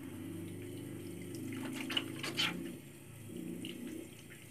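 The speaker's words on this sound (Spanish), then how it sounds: "Luego me enjuago las manos" Running tap water splashes over hands being rinsed at a sink, a soft steady flow with brief louder splashes in the middle, close and without talk.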